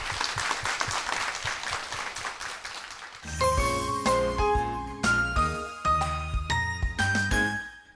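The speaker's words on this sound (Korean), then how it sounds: "이 가정에 축복의 박수 부탁드리겠습니다" A church congregation applauds for a couple of seconds, then bright chiming music with bell-like tones takes over, loud and close.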